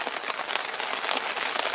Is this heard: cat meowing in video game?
no